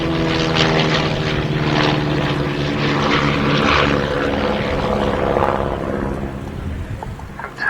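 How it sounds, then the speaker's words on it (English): A pair of Chipmunk T.10 propeller aircraft loop in close formation during an airshow display, their piston engines droning loud and steady throughout, pitch shifting slightly as they climb and turn. "maintaining close formation, Andy, in low-powered aircraft like this, very challenging"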